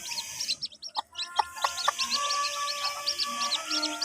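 A newly laying mother hen clucks softly while her freshly hatched chicks peep in rapid, high, repeated calls close by, with no talking.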